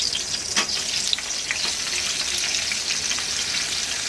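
Two medium onions cut into long slices fry in a pan over high heat, giving a steady close hiss and sizzle with a few sharper crackles and stirring scrapes, and no voices.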